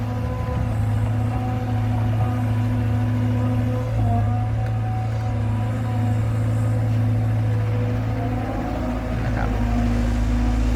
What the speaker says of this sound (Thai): เสียงการขุดของรถขุดของเรานะครับแคท320 GC